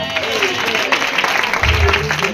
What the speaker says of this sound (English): In Jesus' name, you can clap your hands.